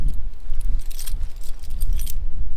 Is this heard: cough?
no